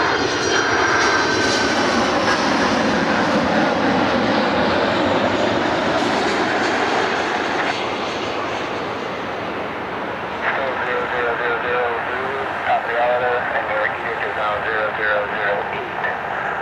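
A FedEx Boeing 767-300 rolls out on runway 24 right at Cleveland Hopkins airport at night, its jet engines roaring loud and steady with a shifting whine that slowly fades and changes pitch as it passes.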